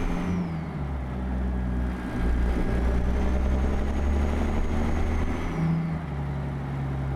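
A Kenworth W900A truck engine in American Truck Simulator starts and settles into a deep, steady idle, then revs up and holds a louder, rising drone before easing back down, alone without talk.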